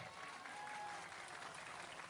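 Audience applause during a humorous Madurese religious sermon, a faint, steady wash of many hands clapping at a distance.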